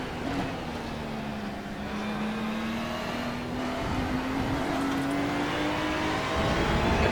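Porsche race cars on track in the sim racing game iRacing, a steady engine drone with a slowly rising pitch held over 7 seconds, constant and moderately loud with no talk.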